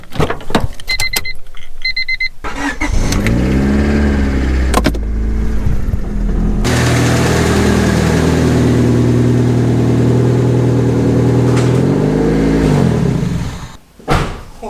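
A $600 junkyard-rescue Honda Civic engine runs loud and close as the car is driven in, its idle and revving rising and falling steadily, with a brief pause near the end.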